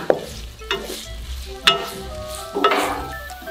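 Ground meat is stir-fried in a pan over a campfire, a low sizzle punctuated by a few sharp scrapes and clacks of a spatula against the pan.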